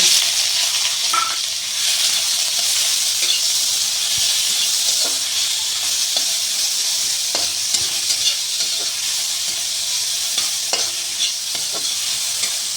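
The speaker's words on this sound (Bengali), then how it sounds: "আমি এখন আবার একটু তেল দিয়ে পেঁয়াজ কুচি, রসুন কুচি এগুলো দিয়ে দিলাম ওই তেলে।" Chopped onion and garlic fry in oil in a pan, giving a loud, close, continuous sizzle with scattered crackles and stirring scrapes throughout.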